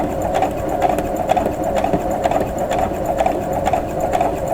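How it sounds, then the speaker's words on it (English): Sewing machine runs steadily while stitching quilt pieces for a pinwheel block of half-square triangles, a close, even whir with a quick, regular ticking pulse throughout. "And you just continue sewing, making sure that these 2 pieces are even."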